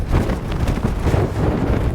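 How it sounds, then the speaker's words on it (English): Loud, steady wind buffeting the microphone in Uyuni, Bolivia, a dense roaring rumble with gusty swells throughout and no voices. "on a super windy day like today, this might not be the best time to be climbing"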